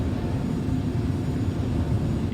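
Engine of the RSI Scorpius ship in the Star Citizen video game, a loud, steady low rumble at one constant level throughout, with no rise or fall.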